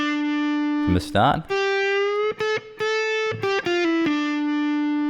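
A distorted electric guitar plays a short lead phrase from a solo, with sustained notes, quick slides and pull-offs, broken by brief picked bursts; a voice speaks briefly.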